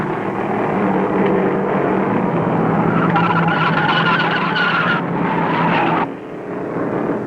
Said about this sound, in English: Jimmy Hilton, car number 48, blew an engine, spun in the oil, and slides down the high-banked third turn.